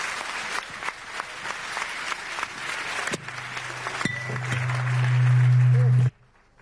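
A conference audience at a high-level European discussion on the future of Europe applauds steadily for several seconds, the clapping cut off abruptly as a steady tone rises underneath near the end.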